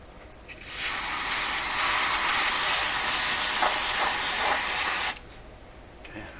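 A can of freeze spray blasts into a capacitor on a Conar 230 signal tracer, a loud continuous hiss of pressurized gas lasting about four seconds before stopping abruptly, with no talking.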